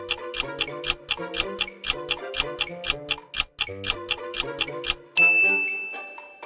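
Golden Axe's start menu sound from the retro video game: a brisk, steady run of bright, bell-like chiptune notes, about a dozen evenly spaced hits, then a held shimmering chord that rings out and fades.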